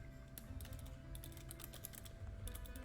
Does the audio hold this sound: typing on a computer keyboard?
yes